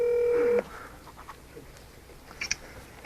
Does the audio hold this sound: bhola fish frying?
no